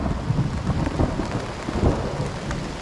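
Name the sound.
thunder during a mountain storm with rain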